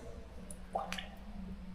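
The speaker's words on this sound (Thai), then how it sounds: "มันจะมีน้ำหยดขึ้นมา จากข้างบนเนี่ยครับเนี่ย" Water drips from the ceiling of a cave at Wat Tham Narai temple. A couple of faint, isolated drops fall close by against a quiet, low hum, with no talking.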